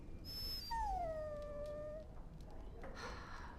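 A dog in the video game Dragon Age Origins gives a high, drawn-out whimpering whine that slides downward and trails off, followed by a softer short whine near the end.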